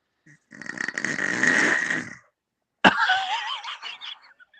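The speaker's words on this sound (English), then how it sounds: "I unmuted his mic and it showed him snoring" A man snores loudly, one long rasping inhale, then a pause and another rough, gurgling snore, close and unaccompanied.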